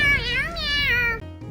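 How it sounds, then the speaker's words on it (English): Jetpack Cat's default voice line in the game Overwatch, a drawn-out, wavering cat meow with two rising and falling swells, loud and close, ending abruptly. "this is Jetpack Cat's default voice line"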